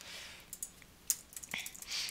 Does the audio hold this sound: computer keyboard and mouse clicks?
yes